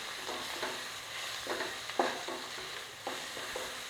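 Guava pieces being stirred and sautéed in a pan for chutney, a steady soft sizzle broken by repeated scraping strokes of a spoon, close and fairly quiet, with no voices.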